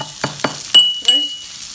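Mustard seeds and cumin drop into hot oil, giving a few sharp crackling taps followed by a brief sizzle, close and fairly loud.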